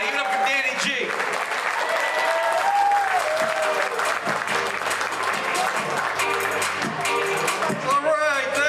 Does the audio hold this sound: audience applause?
yes